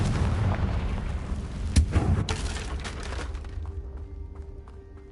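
Confringo spell blast in the video game Hogwarts Legacy, a loud booming explosion with sharp cracks around the two-second mark that rumbles and fades away into a quieter tail.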